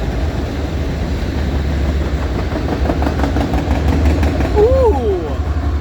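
A CSX Q216 freight train led by a shiny rebuilt CM44 locomotive rolls past near Pittsburgh, a steady low rumble of engine and wheels with a rising horn-like tone near the end, while people talk over it.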